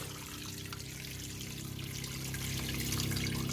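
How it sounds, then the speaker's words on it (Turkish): Water pours steadily into a cooking pot holding neck meat and seasonings for boiling, a continuous close trickle and splash that grows slightly fuller as the level rises, with no talking. "Ağzına kadar şimdi su dolduruyoruz."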